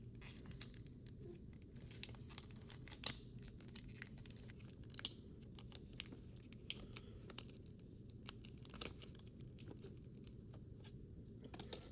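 A sharp knife trims a plastic dental whitening tray, giving faint, scattered small clicks and scratchy ticks against quiet background hiss over several seconds, with no speech.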